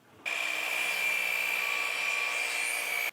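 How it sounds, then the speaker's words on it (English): A miter saw spins up and cuts through a wooden board, giving a sudden, loud, steady high whine that holds for about three seconds and then stops abruptly, with no talk. "I'm going to use my miter saw to cut two 24-inch boards"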